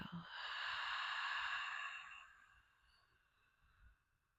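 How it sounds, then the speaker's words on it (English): A single long, soft exhale of breath, close and quiet, tapering off gradually, with faint low noise beneath. "Go ahead and exhale all the air out of your lungs."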